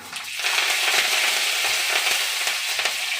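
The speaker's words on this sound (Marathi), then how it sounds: "आता याच्यामध्ये जिरा मोहरी टाकून घेते." Cumin and mustard seeds dropped into hot oil, bursting into a loud, close crackling sizzle with sharp popping spatters, rising quickly and holding steady with no voices.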